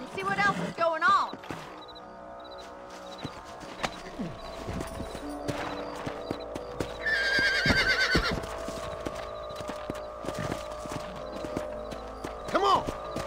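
Horse hooves clip-clop over the Red Dead Redemption game soundtrack, with a couple of sharp whinnies and scattered effects; voices speak at points.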